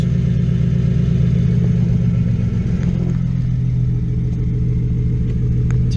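Loud, steady idle from a straight-piped BMW Z4 with headers and a freshly installed motor, running just after its first start-up: a deep, continuous rumble with a slight clattering edge, close and uninterrupted throughout.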